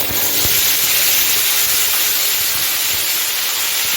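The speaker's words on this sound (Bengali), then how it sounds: "আমি এখন বানিয়ে রাখা পেস্টটা দিয়ে দিচ্ছি" A loud, steady hissing sizzle as spice paste hits hot oil for a cabbage dish, continuous and close, with no voices.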